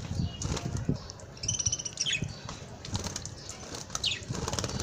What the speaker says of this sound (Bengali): এরা বারবার পানির নিচে মাথা দিচ্ছে আর সরে যাচ্ছে।